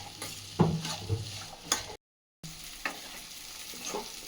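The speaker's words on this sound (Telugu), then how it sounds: "ఇందులో కొంచెం సాల్ట్ వేసుకొని మిక్స్ చేసుకోవాలి." Salted vegetables, potato, carrot and broad beans for an alu fry, being stirred in a frying pan, with soft sizzling under repeated scraping strokes of a spoon, close and moderately loud, broken by a brief silent gap.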